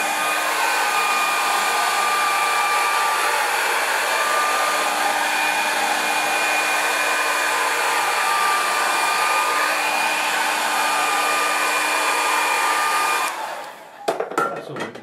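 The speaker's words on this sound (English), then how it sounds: "so I'm going to have to use the air dryer." A hair dryer blows steadily and loudly over watercolour paper for about thirteen seconds, its motor whine constant, then cuts off, leaving a few faint clicks.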